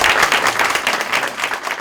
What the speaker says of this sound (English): And let's give a round of applause to Elijah Phillips for his opening remarks.